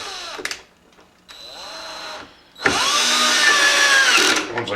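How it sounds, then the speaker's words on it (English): A power drill countersinks screws: a couple of brief whirring starts, then a steady, close, high-pitched whine that runs for about two seconds. "once I get the drill going in the right darn direction, I just countersunk those screws"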